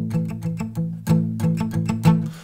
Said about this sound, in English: In the verses we have to use the palm muting.